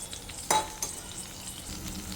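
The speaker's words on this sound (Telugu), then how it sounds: "సో ఫస్ట్ ఇవైతే వేపేసి పక్కన పెట్టేద్దాం." Urad dal and cumin seeds fry in hot oil for mint chutney, giving a steady soft sizzle, with a sharp spoon clink and a scrape of stirring near the start.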